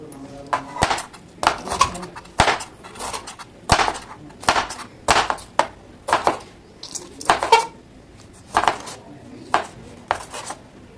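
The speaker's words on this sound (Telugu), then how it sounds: "ఇలా అయితే మొత్తం కట్ చేసేసుకుందాం ఇలా అయితే అన్నీ కట్ చేసుకోండి సన్నగా" A knife thinly slices vegetables for a curry of broad bean seeds and green tomato, making steady rhythmic chops against a cutting board, close and fairly loud, with clusters of quick strokes separated by brief pauses.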